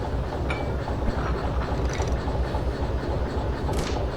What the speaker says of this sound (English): when we connect the brake hoses, when we couple the cars, it'll keep the brake pressure